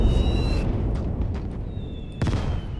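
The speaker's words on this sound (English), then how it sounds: "our mortars continue to ring out" Mortar fire in the World War II Eastern Front game Gates of Hell: Ostfront, with muffled booms and bursts at intervals over a rumbling battlefield bed.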